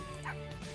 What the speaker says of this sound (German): Die Hunde sind noch alle da.